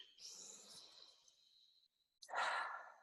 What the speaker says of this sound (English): I invite everyone to take a deep, deep breath